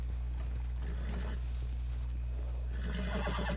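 A horse in Red Dead Redemption 2 neighs and whinnies, a fairly quiet game sound over a steady low hum, with faint clip-clop and mechanical clicks and a brighter whinny near the end.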